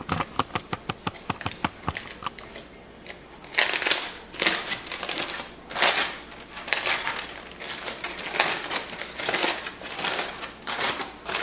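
Crinkly foil being peeled and unwrapped from chicken cooked in a can, close and busy, with a run of sharp crackles at the start followed by steady rustling and crumpling, no voices.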